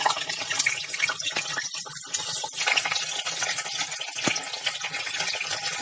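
Soya chaap pieces going into hot oil in a pan for a spicy soya chaap curry, with a dense, steady sizzle and some clattering and stirring close by, without speech.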